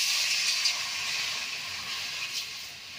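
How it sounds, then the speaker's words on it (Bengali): Water poured into a hot kadai wok for an aloo bati chorchori hisses and sizzles steadily. The sound is a close, bright, continuous hiss with small surges, and no voices are heard. "দেখো কড়াইয়ে দিয়ে দিচ্ছি জল।"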